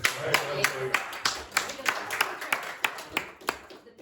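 Scattered, rhythmic hand clapping from a small classroom group applauding Carlos, each clap distinct and fairly close, with people talking over it.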